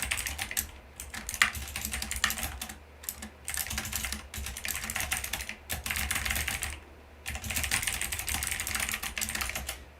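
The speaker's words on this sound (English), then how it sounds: "this incredibly loud keyboard makes it so that you know exactly what I'm typing and what I'm not" Rapid, continuous clattering of a very loud computer keyboard being typed on, close up, in bursts separated by brief pauses.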